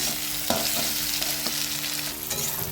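Onions sizzle steadily in a hot pan, with a few scraping stirs of a spatula breaking the constant crackle.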